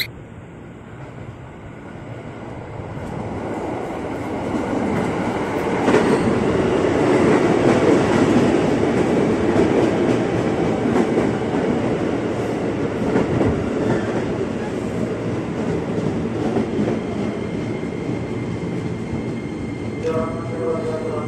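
A KRL commuter electric train bound for Jakarta Kota, eight cars long, rolls into track 1 at a busy platform with a steady loud rumble and rail clatter that builds and holds, a brief squeal near the end, and a voice talking over it.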